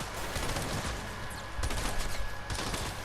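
Trinity gun firing in Fortnite Save the World, a steady stream of close, loud gunfire bursts with a heavier surge of shots in the second half.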